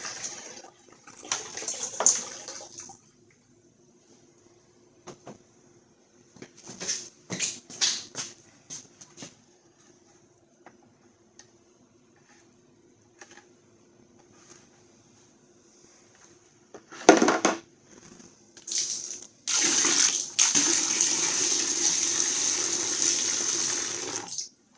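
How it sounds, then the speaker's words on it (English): Water poured out of a pail used to flush a heater core on a 2012 Chrysler 200 3.6, in a few short splashes followed by a longer, steady loud pour near the end. "All right, let's get rid of this water."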